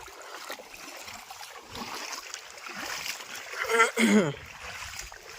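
Feet wade and splash through floodwater covering farm fields in the flooded Ghed area, a steady watery sloshing that swells near the end, with a brief voice cutting in.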